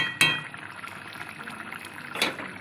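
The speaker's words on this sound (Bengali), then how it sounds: "কচু জিনিসে একটু বেশি করে জল দিতে হয় তা নাহলে একদম টেনে শুকিয়ে যায়" Water poured into a pot of prawn and taro curry, with a splashing pour at the start and another near the end over a soft simmering background.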